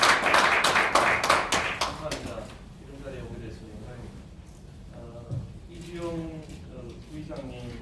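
A burst of crowd applause at a political forum fades out over the first couple of seconds, followed by someone speaking.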